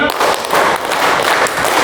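Rapid, dense hand clapping from a group, continuous for about two seconds with no clear gaps between claps, loud and close, as in a classroom counting-clap exercise led by a teacher.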